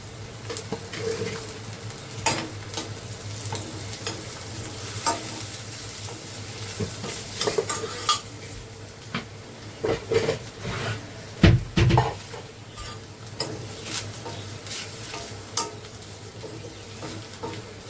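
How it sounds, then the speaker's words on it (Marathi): Spices such as turmeric, agri masala and garam masala sautéed in a pan, a soft continuous sizzle with intermittent stirring and clinks of a utensil against the pan. "मसाले आपले मस्त असे ना परतून घ्यायचे"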